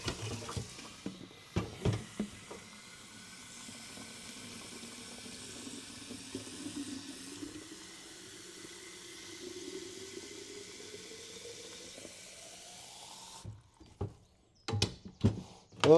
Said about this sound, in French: On va faire un petit arrosage.